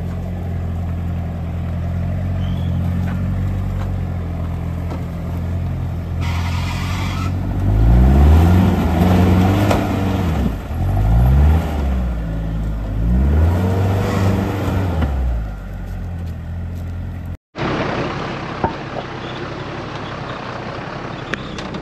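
A 4WD vehicle grinding along a rough, hard bush track in the Watagans, its engine loud and close, rising and falling in repeated revs as it climbs, before an abrupt cut to quieter idling and cabin rattles.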